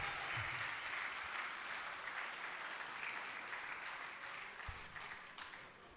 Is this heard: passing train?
no